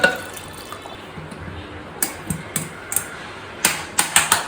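Water splashes in short, uneven bursts into a blender jar holding tomatoes, capsicum, onions and garlic. The pours are quiet and close, with faint background noise between them.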